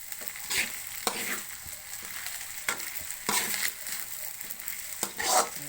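Rice frying in a pan for a breakfast of garlic fried rice, a soft steady sizzle broken by periodic scraping stirs of a utensil against the pan, close and fairly quiet.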